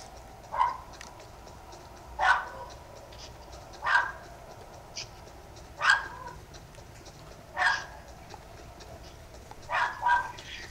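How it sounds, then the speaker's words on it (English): A dog in a Fortnite duos game barks at a steady interval, six or seven single yaps at moderate distance over a low background hum. "That's his dog barking, by the way."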